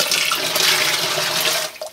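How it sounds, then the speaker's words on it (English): Water pours steadily into a home-distillation wash container filling toward a 25-litre mark, a loud continuous splashing rush that stops abruptly near the end, with no talk. "Now we're going to add the rest of the water to bring it up to the"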